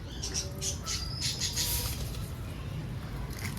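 A flock of pigeons being herded indoors makes chirps and brief calls, with possible wing flutters, close by over a low rumbling background. The bird sounds are sharper and busier in the first half.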